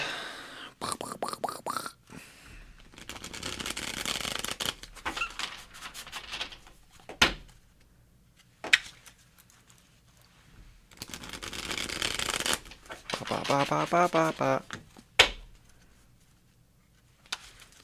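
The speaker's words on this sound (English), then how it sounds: "Shuffle these cards." Tarot cards being shuffled by hand, several bursts of riffling and flicking separated by quiet pauses, with sharp taps of the deck in between and no voices.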